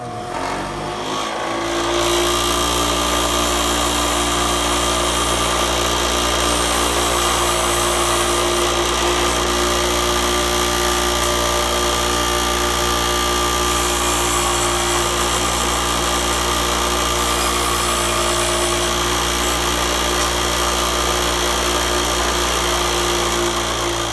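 A grinder spins up with a jet-like whine and then runs steadily for a long stretch, a loud, constant, tonal drone with a hum underneath.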